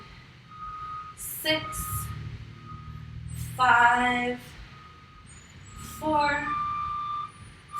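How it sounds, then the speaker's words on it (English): Repeated electronic reversing beeps from a truck sound in bursts at moderate distance, partly under a woman counting aloud during a ballet class. "Oh my god, it's a million beeps right now."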